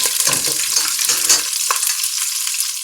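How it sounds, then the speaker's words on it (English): Green chilies and curry leaves frying in hot oil in a pan, a steady crackling sizzle with occasional stirring scrapes, close and fairly loud with no talking. "See, this is how the chilies and curry leaves are fried."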